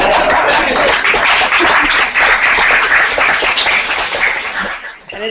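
A plenary audience claps loudly and continuously, a thick wash of many hands that tapers off near the end.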